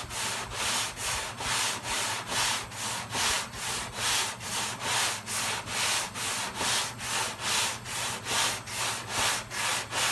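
A sanding block rasps back and forth over the body panel of a Toyota Camry before primer, about twenty even strokes in a steady rhythm, close and alone.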